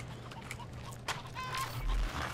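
Chickens in the video game Crysis cluck and squawk in short, scattered calls amid low background game ambience.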